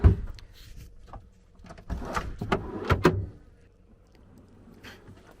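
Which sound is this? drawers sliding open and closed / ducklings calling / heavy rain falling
drawers sliding open and closed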